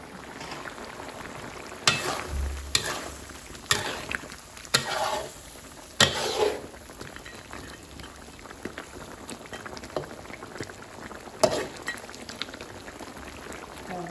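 Spicy pork bone curry stir-fried in a pan, a steady sizzling fry broken by repeated scraping, clattering stirs of the spatula, close and continuous for the whole stretch.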